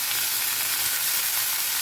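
Boiled cluster beans fry with onions in hot oil, a close, steady, even sizzle without pause over a brief stretch.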